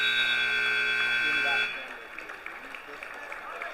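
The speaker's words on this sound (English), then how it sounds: "All right, we get a buzzer." A loud, steady electronic buzzer sounds for about a second and a half to end a period in a high school wrestling match, then cuts off, leaving gym crowd noise.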